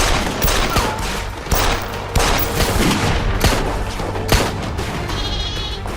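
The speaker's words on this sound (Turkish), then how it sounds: "Silah sesi mi o?" Rapid gunfire crackles continuously in a noisy, chaotic scene, sharp cracks punching through dense background din, with animal bleats mixed in.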